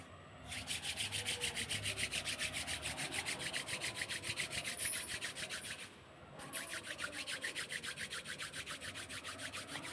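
Palms rub together briskly in a fast steady back-and-forth rhythm during a yoga warm-up, close and clear, with a short pause midway before the rubbing resumes.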